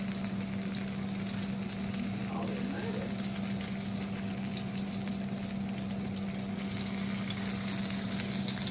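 Food frying in a pan at home, a constant dense sizzle with a steady low hum running underneath, even and unbroken throughout, fairly close with no speech.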